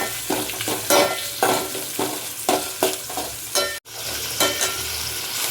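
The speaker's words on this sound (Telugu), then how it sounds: "దీంట్లోనే కొద్దిగా కరివేపాకు కూడా అయితే వేసుకున్నానండి ఎండుమిరపకాయ కూడా అయితే వేసాను" Curry leaves and dried red chillies fry in a pan, a steady close sizzle broken by repeated scraping stir strokes and one brief dropout near the end.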